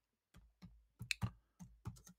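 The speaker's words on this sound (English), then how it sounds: "I'm just typing with one hand, so it's a little bit slow." Keys on a computer keyboard are tapped with one hand in slow, uneven bursts of six or seven close, quiet clicks, with silence between them.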